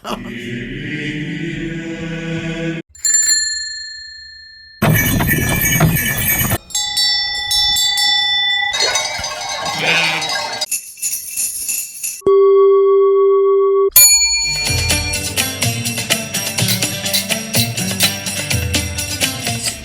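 A string of separate musical bell and chime sounds, including jingling dance bells, each ringing out and decaying, some low and booming, others bright and jingly, loud and close with no talking.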